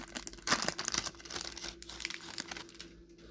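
Crisp, close crinkling and tearing as a 1989 NFL Pro Set football card pack wrapper is ripped open, loud at first and then fading into softer rustles.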